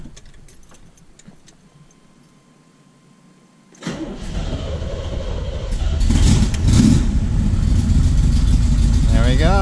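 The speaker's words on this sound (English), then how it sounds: "cold start." A 1979 Corvette cold-starting: quiet cranking, then the engine catches at about four seconds and settles into a loud, steady rumbling idle that swells briefly. Close up, with someone speaking over it.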